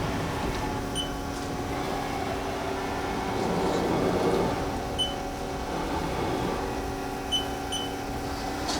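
A Haas SL-40LB heavy-duty big-bore CNC turning center's Z-axis hums and whirs steadily through a machine drone, with a few faint ticks and a slight swell midway.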